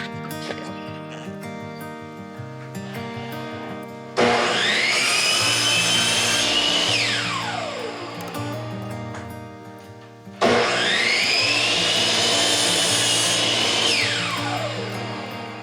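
A power saw cuts wooden rails for kitchen cabinets in an off-grid cabin, two loud close bursts of whining blade through wood, each rising then dipping as it finishes, with motor hum between.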